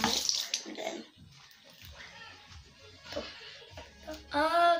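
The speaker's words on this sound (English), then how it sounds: "And then I'm gonna use this one and put some water on it." Water runs and splashes onto a hair brush at a bathroom tap, a close, uneven trickling with brief bursts, ending in a louder gush.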